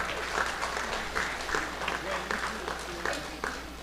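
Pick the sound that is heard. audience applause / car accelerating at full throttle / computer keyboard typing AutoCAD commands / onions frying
audience applause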